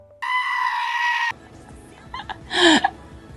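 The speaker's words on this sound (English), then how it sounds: "they just threw in the screaming goat again at the end" The screaming goat meme sound: a loud, harsh, human-like goat scream held for about a second, followed by shorter bleats and another strained cry, with no other sounds around it.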